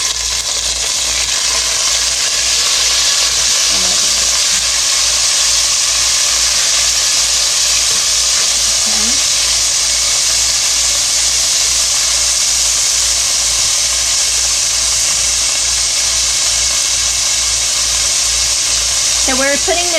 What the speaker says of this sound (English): We let the garlic saute for about 5-10 seconds just to get a nice brown on it